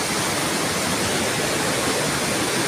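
Heavy, steady rain pours without pause, a dense close hiss that fills the whole moment with no voices over it.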